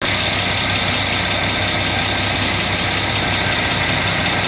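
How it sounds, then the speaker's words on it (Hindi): A car engine idles steadily at close range, a constant low rumble with a faint vibrating hum throughout and no voices. "गाड़ी को बंद कर दें यार, बड़ा शोर आ रहा है।"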